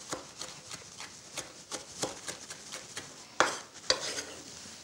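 A utensil stirs mussels and chopped parsley in a pan, giving soft repeated scrapes and light clinks of shells against metal, with a couple of sharper knocks near the end; quiet and close.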